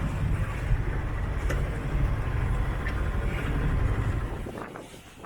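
Steady, loud wind rushing past a sailing boat under sail in about 14 knots of breeze, a dense continuous roar that eases off near the end.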